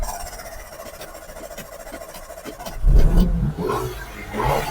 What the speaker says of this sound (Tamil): Engine start.